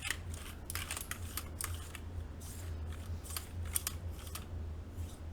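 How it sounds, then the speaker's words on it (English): A mechanical keyboard is wiped down quickly, giving quiet brisk rubbing and scraping strokes in uneven bursts over a low steady hum, close up and without talking. "Just giving this a little quick wipe."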